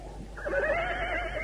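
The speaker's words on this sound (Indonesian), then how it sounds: "Aku seperti mendengar suara ringkih kuda." A horse tied beneath a tree gives a single loud, wavering whinny that rises and trails off over about a second, heard alone without talk.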